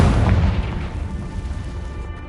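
Confringo fire-blast spell exploding in Hogwarts Legacy, a single loud, deep boom that rolls into a long rumbling decay, close and filling the whole clip.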